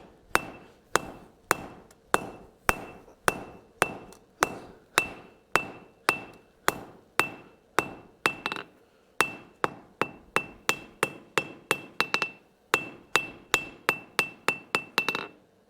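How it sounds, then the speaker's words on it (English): Hammer forging a quarter-inch square punch on an anvil, a long, steady run of loud, sharp metallic strikes about two per second, each ringing briefly with a bright tone, pausing once near the middle and continuing to the end. "we're just going to forge a 1/4 inch square punch"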